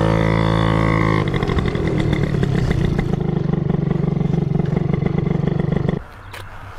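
A tuned scooter engine revs hard and loud, a rough buzzing roar that holds steady for several seconds before dropping to a lower idle near the end.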